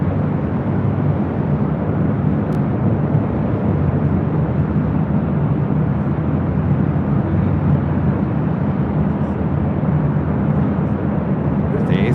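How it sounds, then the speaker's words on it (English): A Delta Airbus A321neo taking off at LAX gives a steady, broad jet roar that stays loud and even throughout, heard from the ground with no distinct voices. "This is Delta Airlines 311 taking off to Kailua, Kona on an A321 Neo"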